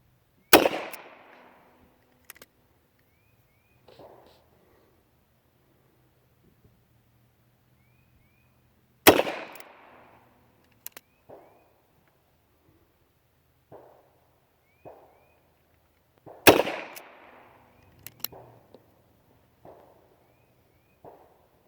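Three sharp, loud gunshots from a Nagant 1895 revolver spaced roughly eight seconds apart outdoors, each with a short decaying echo, with faint clicks and handling noises between shots.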